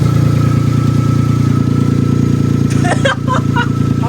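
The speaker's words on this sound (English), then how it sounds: "it's just an exhaust leak." A rally car engine with an exhaust manifold leak idles steadily and loudly with a rough, puffing exhaust rhythm, while brief voices come in near the end.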